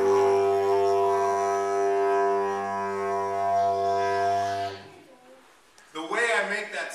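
A low, steady didgeridoo drone made by buzzing the lips holds for about five seconds with rich, even overtones, then stops; after a short silence, another sound follows briefly.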